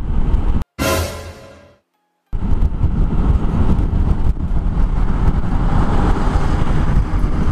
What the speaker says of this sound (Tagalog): Tingnan natin na merong bus sa likod ko. Ayun na, overtake na siya.